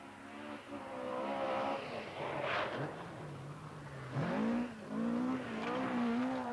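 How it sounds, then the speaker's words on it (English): Rally car sliding through corners on a slippery surface, engine revving and whining with pitch swinging up and down, tyres scrabbling between bursts of acceleration, close and loud, no speech. "Watch those front wheels. The sliding right, the sliding left, foot down into the final straight."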